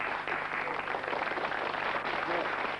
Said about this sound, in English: The people in the front row will start clapping and stop as my hand goes across like that.